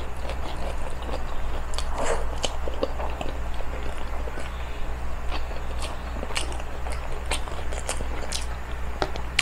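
People eat oily pork steak with lots of onions. Close, scattered clicks of biting and chewing sound over a steady low background hum, with no talk.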